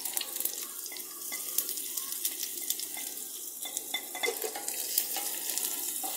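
Onion, dried red chillies and grated coconut frying in a pan, a close, steady hissing sizzle with crackling pops and occasional stirring taps throughout, no voices.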